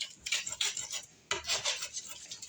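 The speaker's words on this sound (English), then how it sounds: "pushing down on the knife will mash that garlic. It'll smash that garlic nice and make a nice little puree" A knife blade pressed and dragged over garlic on a cutting board to mash it into a puree, giving soft repeated scraping and rasping strokes, close and fairly quiet, with no talking.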